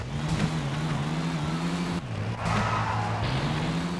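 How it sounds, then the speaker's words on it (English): Game car engine in Tony Hawk's Underground droning steadily, with its pitch dropping sharply around the handbrake skid midway before revving back up, loud and close with no talk. "Ew, gotta hit that handbrake."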